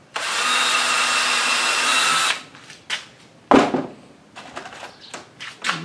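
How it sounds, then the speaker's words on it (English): A power drill drills a pilot hole for a support rod, running loudly for about two seconds, then stops; short knocks and brief tool handling noises follow. "drill a pilot hole on the other side"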